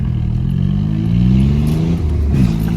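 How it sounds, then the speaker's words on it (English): A car engine drones loudly up close, its pitch climbing as it accelerates, then dipping and rising again through gear changes. "Some gear changes."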